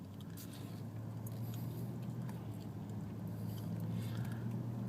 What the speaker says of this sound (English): Okay, we're driving down the road.